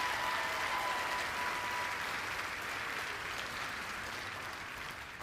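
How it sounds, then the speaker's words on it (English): Technical program graduates at a 2021 ceremony applaud themselves with a steady, dense round of clapping heard from a distance, fairly faint and gradually tapering off. "So give yourselves a round of applause."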